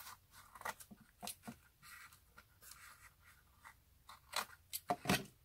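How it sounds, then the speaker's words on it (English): Scissors cut along the edge of a decoupage box, giving soft, close snips and papery scrapes in an irregular rhythm over quiet background, with a few sharper clips toward the end. "I'm just going to cut along here."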